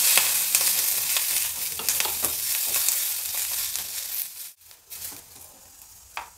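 A large onion and a whole head of peeled garlic fry in oil in a pan, making a steady close sizzle with light stirring scrapes that fades briefly near the end.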